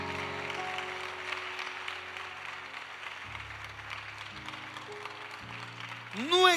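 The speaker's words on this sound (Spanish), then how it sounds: "Dele su mejor aplauso al Señor." A church congregation applauds during a sermon, steady clapping under sustained musical tones, ending with a louder rising swell.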